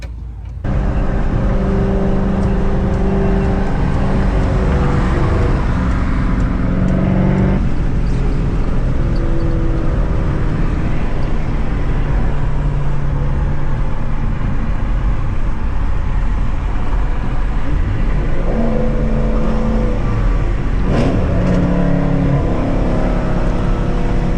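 A supercharged Whipple 5.0 Shelby Mustang from 2011 and a McLaren street racing produce loud, continuous engine roar and acceleration up close, with the pitch shifting as the engines build and ease off, and no talking.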